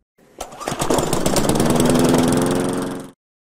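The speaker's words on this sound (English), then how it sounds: "And the louder sound of a lawnmower here." A lawnmower engine starts up and runs with a loud, rhythmic mechanical chugging for about three seconds before stopping abruptly, with no voices.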